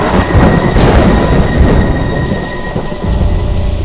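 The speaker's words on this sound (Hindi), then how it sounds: "धरती पर बारिश होने लगी" Heavy rain pours steadily on a surface while thunder rumbles low and close throughout a storm, loud and dense with no voices.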